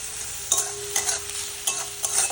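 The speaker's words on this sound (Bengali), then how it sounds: "এগুলোকে লাল লাল করে ভাজবো।" Bombay duck (lote) fish frying with chopped onions in a pan, with a constant hiss of sizzling oil broken by several scraping stirs.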